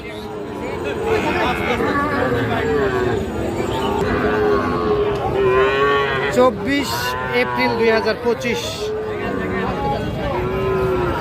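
Sahiwal bull calves and cattle moo repeatedly at a busy rural livestock market, loud and close, under someone talking and a background crowd babble.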